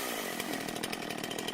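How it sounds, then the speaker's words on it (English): Chainsaw running steadily at high revs, a loud, dense buzzing drone with slight rhythmic pulsing throughout, no voices. "you were given a chainsaw"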